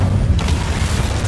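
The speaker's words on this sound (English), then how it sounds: "Incendio." The Incendio fire spell from Hogwarts Legacy bursts out as a short whooshing, crackling blast over a low, steady rumble, lasting about a second.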